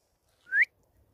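A single short rising whistle from a person outdoors, clear and fairly close, standing alone against a quiet background.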